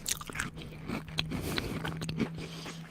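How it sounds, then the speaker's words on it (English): A biscuit is chewed close to the mic, with soft irregular crunches and scraping bites over a low steady hum, no talking. "I'm chewing a biscuit."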